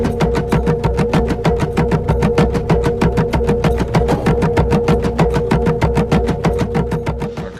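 Recorded drum rhythm said to come from Stonehenge played back, a fast, very regular train of loud beats, evenly spaced and continuous over a steady tonal drone, with no voices.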